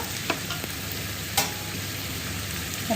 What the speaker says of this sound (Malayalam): എല്ലാം കൂടി ഇട്ടിട്ട് നന്നായിട്ടൊന്ന് മിക്സ് ചെയ്ത് കൊടുക്കുക